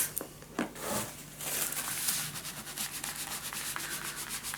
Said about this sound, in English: So burnish it down.